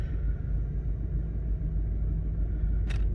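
A 1995 Chevrolet G20 conversion van with its engine already warm idles at a steady, low rumble, fairly quiet and even throughout, with a brief higher-pitched noise near the end.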